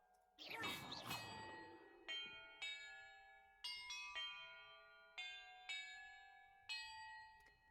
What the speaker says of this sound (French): l'ordre dans lequel je dois faire sonner les cloches